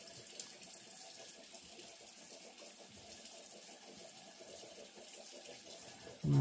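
Water runs steadily from a tap for rinsing the face, a soft continuous indoor stream at moderate distance that stays even and ends with a sudden louder knock.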